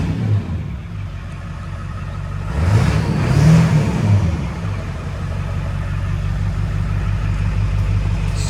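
A cold truck engine idles, swells in a gentle rev lasting about two seconds, then settles back to a steady close idle.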